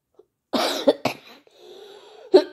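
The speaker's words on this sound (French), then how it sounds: "Pardon pour la toux" A woman with a lingering cough after Covid coughs close up in a quick cluster of dry bursts, then gives one more cough after a short breath.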